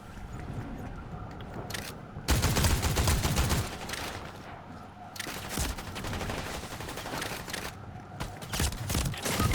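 Dense, rapid gunfire from a video game on the Recharge mode, with loud bursts starting after a short quieter stretch and continuing in steady volleys through the rest of the moment.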